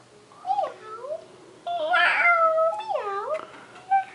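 A young child imitates a cat's meow while reading a picture book aloud, giving several drawn-out, sliding meowing cries with short pauses between, close and clear in a quiet room.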